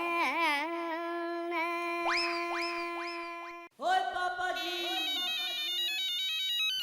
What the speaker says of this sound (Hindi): मेरा नहीं आपका फोन बज रहा है